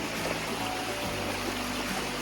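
Water rushes at Fall Branch Falls, where a waterfall and stream pour over rocks, making a dense, even roar that stays loud and close without a break.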